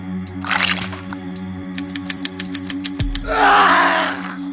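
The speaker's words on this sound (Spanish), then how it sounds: "Un grito desgarrador se escuchó en esa misma calle" A harsh, drawn-out scream erupts near the end, loud and raw, preceded by a brief shrill cry and a run of sharp ticking hits.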